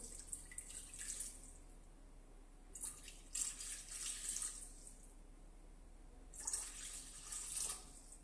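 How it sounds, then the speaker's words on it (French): Water is poured into a mixing bowl while making a chicken blanquette with carrots and mushrooms, a soft splashing trickle that comes in three separate pours with quiet pauses between them. "Dans mon bol, je vais venir ajouter 360 g d'eau."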